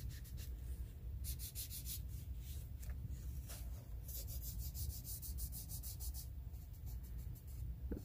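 Gamsol being rubbed into a colored pencil background on paper, a faint, close scrubbing and rubbing with quick bursts of strokes repeating at a brisk rhythm.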